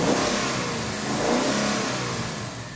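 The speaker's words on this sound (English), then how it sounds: "This 5-liter V8 debuted in the 2011 Mustang, and now the company is putting it in the F-150" A Ford 5.0-liter V8 in an F-150 pickup revs up and down in smooth rising and falling sweeps, loud and close with no talking.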